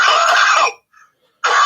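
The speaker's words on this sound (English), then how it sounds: "That cough says take a break." A single loud, harsh cough bursts out close up, followed by a short silence and then a second cough.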